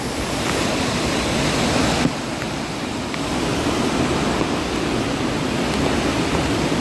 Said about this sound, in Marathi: किती डेंजर मध्ये पाणी व्हावता